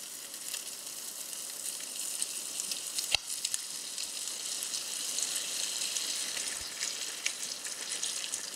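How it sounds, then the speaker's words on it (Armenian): Cream poured into a hot sizzling pan, a steady broad frying hiss running throughout with a couple of sharp clicks, fairly quiet and without voices. "Սերուցքը հիմա կավելացնեմ արդեն։"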